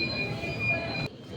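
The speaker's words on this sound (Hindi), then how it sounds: "Underground metro." An underground metro train runs with a steady low rumble and rail noise plus a faint high whine, then cuts off sharply near the end as if the car moves into a quieter stretch; a voice murmurs faintly underneath.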